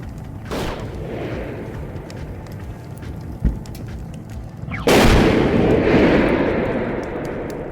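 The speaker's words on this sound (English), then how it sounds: "Phil, launch all the grenades you have left." Grenade launches followed by explosions: a sharp thump near 3.5 seconds, then a loud broad blast at about 5 seconds that slowly fades over steady low rumbling background noise.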